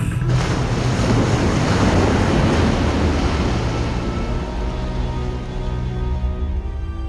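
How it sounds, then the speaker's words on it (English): Loud, continuous roar of wind and crashing surf, a dense rushing wash that stays strong throughout before easing slightly near the end. "Suddenly the wind began to howl"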